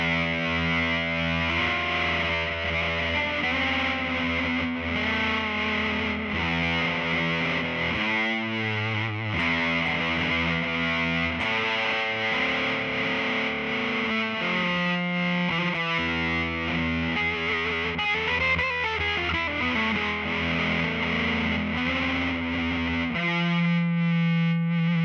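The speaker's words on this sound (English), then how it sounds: "you're getting the same volume coming out of the fuzz, but it's just varying degrees of distortion" Electric guitar fed through a fuzz pedal and an Empress Tremolo 2 pedal, loud sustained distorted notes and chords whose grit and texture shift while the volume stays level, played alone for about 25 seconds.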